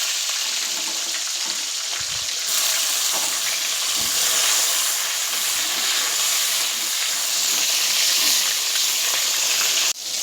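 Chopped tomatoes drop into hot oil with whole spice tempering and set off a loud, sustained sizzle and hiss that continues with light stirring until a final clunk.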